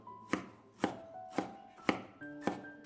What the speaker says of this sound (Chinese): 直接放在案板上把它切碎。 尽量切得碎一点。